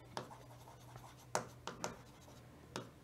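Pen or marker strokes squeak and scratch across a board during a law lecture, a few separate sharp strokes in about three seconds, close by and fairly quiet, with no speech over them.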